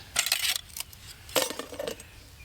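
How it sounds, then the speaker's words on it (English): An aluminum Jetboil Summit frying pan is handled at a hammock campsite by a pond, giving two short bursts of bright metallic clinks and rattles close by, with a quiet gap between them. "This is the aluminum frying pan"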